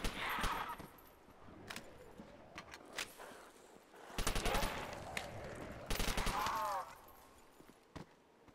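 Bursts of automatic gunfire from the World War II shooter Call of Duty: World at War come in clusters of rapid cracks near the start and again around the middle, separated by quieter game ambience with a voice talking.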